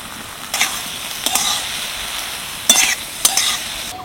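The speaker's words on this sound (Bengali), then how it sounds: "এর মধ্যে আমি এখন দিয়ে দেবো পেঁয়াজ কুচি" Okra softened under a lid fries in a pan as chopped onion goes in, a steady sizzle broken by a few sharp scraping stirs, close and fairly loud.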